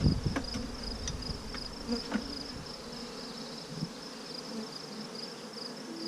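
A steady buzz of honey bees at a hive hums throughout, with brief louder passes as individual bees fly close by.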